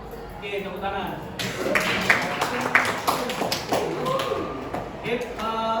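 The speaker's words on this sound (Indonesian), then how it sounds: "Oke, tepuk tangan." Students in a classroom clap their hands together, with a burst of scattered, uneven claps starting a moment in and continuing irregularly, with some voices and classroom bustle underneath.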